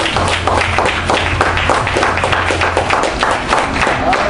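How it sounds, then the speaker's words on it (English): A church congregation claps and cheers in a loud, dense burst of applause at a Florida miracle service, continuous and close, with a low hum and some voices mixed in. "Give my Jesus a round of applause."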